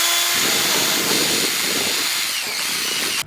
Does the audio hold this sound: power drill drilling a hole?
yes